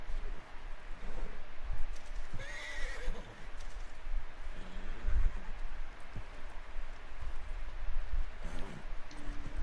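Horse neighing in the Red Dead Redemption 2 online game, whinnies rising over steady clip-clop hooves and a rain-like background hiss, moderately loud throughout with no talk.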